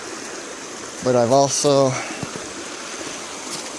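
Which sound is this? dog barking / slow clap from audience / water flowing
water flowing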